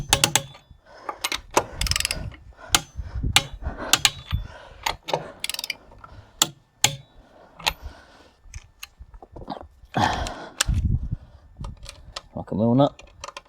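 A wrench works the wheel nuts on a Mazda MX5 NC during a brake pad and disc job, with a rapid series of close metallic ratchet clicks and knocks in irregular bursts and a person talking over parts of it.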